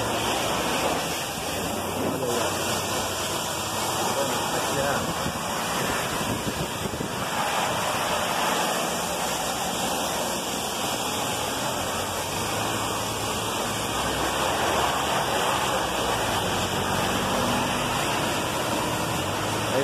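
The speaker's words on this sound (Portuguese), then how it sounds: "E agora tá batendo a água." Pressurised water jet spraying steadily across a cargo truck during a wash, a continuous loud hiss and rush with no talking.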